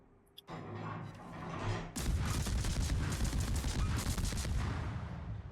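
A Bismarck battleship firing broadside in World of Warships, heard as a sudden dense roar of heavy gunfire that erupts after a couple of seconds and rumbles on continuously, preceded by a short crack and a softer lead-in.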